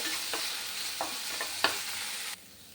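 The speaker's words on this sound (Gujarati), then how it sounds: "હવે આને એકદમ સરસ આપણે સાંતળી લેવાનું છે." Coriander stuffing seasoned with salt and turmeric is sautéed in a pan for Kathiyawadi bharelo rotlo, with a few spatula scrapes over a gentle sizzle that cuts off abruptly near the end.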